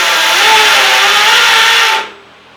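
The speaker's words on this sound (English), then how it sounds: "We're drilling the holes so that we can connect them here and here to the supports" Power drill boring holes in steel C-beams, a loud continuous high-pitched whine that cuts off abruptly near the end, leaving quiet.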